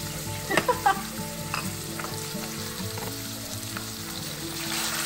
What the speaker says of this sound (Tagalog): Lutuin natin ang ground pork.